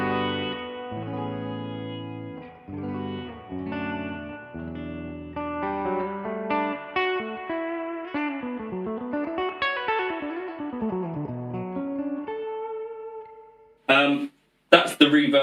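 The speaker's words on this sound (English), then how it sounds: "that's the reverb kind of up full." An electric guitar through a Mesa Boogie Electra Dyne amp with reverb turned up full plays melodic phrases drenched in heavy reverb and echo, notes blurring and trailing into each other, with a couple of abrupt noisy bursts at the end.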